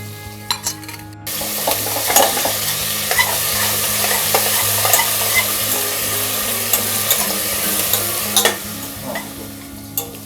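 Ginger, chili and garlic paste stir-fried with onions in a pan for spiced rice, a loud steady sizzle with scraping stirs and occasional utensil clicks, close and continuous after a brief quieter start.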